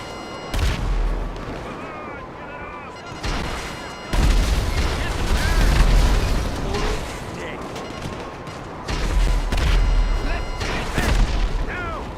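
Missiles explode in GTA 5 Online, with repeated heavy booms and rumbling blasts in bursts over continuous game noise, and someone talking during the action.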